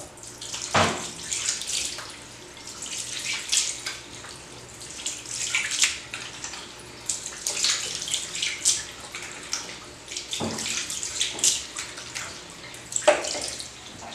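A tap runs in uneven spurts while someone washes their face at a sink, water splashing and gurgling close by, with pauses in between and no talking.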